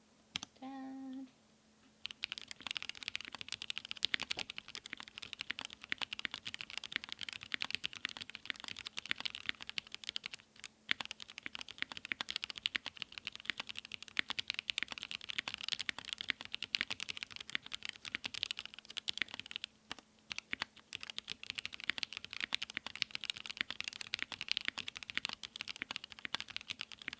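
Rapid, continuous clattering of a computer keyboard during a typing test, dense close keystrokes running nonstop after a brief quiet start, with no talking.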